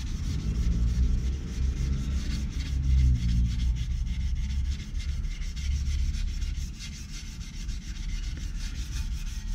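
Sanding block rubbed by hand over a Vmax motorcycle air duct, a steady close scratchy rasp in repeated back-and-forth strokes that continues throughout with no talk.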